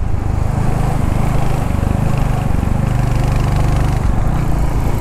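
A Royal Enfield Hunter 350 motorcycle engine thrums steadily while riding, loud and close, with a constant throbbing drone and wind roar throughout.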